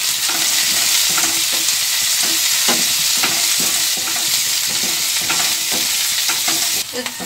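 Chopped garlic and green chili tossed with softened onion in a hot pan, a loud continuous sizzle broken by repeated scraping strokes of a spatula, close up with no voices.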